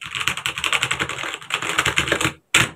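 Rapid typing on a MageGee mechanical gaming keyboard with red switches, a dense run of soft, non-clicky keystrokes close to the mic, with a brief pause before a final burst of keys.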